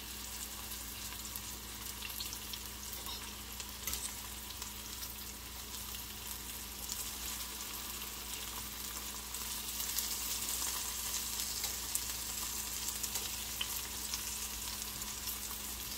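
Okra frying in a Deluxe Cookware pan, a steady close sizzle and crackle of oil that runs unbroken throughout, swelling slightly louder toward the end, with no talking.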